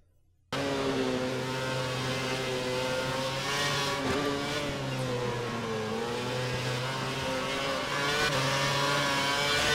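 Race car engines in F1 2011, the video game, roar loud and steady through the whole stretch during an overtake, their pitch rising and falling with gear changes and wavering with faint tyre noise.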